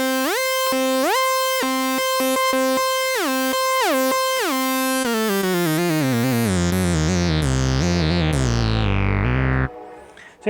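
Restored Minimoog analog synthesizer played with glide switched on, stepped tones giving way to swooping, sliding pitches that sweep down into a deep bass drone, loud and close with no talking, ending abruptly.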